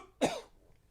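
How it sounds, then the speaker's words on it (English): A single short, sharp cough lands close to a microphone, followed by quiet. "Try not to cough into the mic here."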